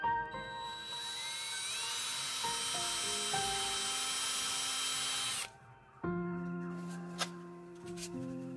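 A power drill whines steadily through wood for several seconds, drilling a hole for an axe handle rod, stops briefly, then starts again with a shorter, lower-pitched burst.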